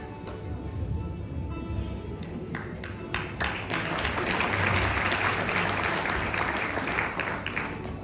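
A community gathering in London breaks into a round of applause, building from scattered claps into dense, sustained clapping from a crowd in a hall, moderately distant.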